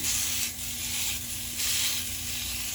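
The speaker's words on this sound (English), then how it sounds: "It's sizzling." Steady, bright sizzling of a smash burger patty on a small hot grill surface, a continuous hiss that swells and fades slightly, close by with no talking.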